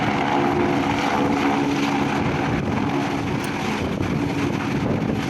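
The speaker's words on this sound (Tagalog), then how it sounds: "Medyo malaki ito na helicopter guys." A large helicopter near an anchorage area hums with a steady, loud rotor and engine roar that holds level throughout, with no voices.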